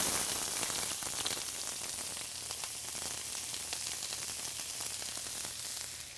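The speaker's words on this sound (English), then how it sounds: "So you see now this pan's nice and hot. We got the oil going. I'm going to go onion straight in." Onions hit hot oil in a pan and sizzle steadily, a dense, even crackle like light rain with scattered sharp pops, fairly quiet and close, with no talking.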